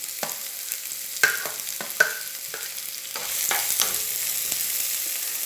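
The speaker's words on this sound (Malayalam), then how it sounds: "ഇനി ഇതിലേക്ക് നമ്മൾ അരിഞ്ഞു വെച്ചിരിക്കുന്ന സവാള ചേർക്കാം" Chopped onion tipped into a hot pan with dried red chillies and curry leaves for a carrot thoran, sizzling steadily while a spoon scrapes and stirs in irregular clacks, close and alone.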